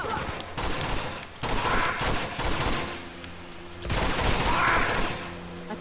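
Rapid gunfire rattles in several bursts in the Uncharted: Among Thieves video game, moderately loud, with brief gaps and a little background noise between volleys.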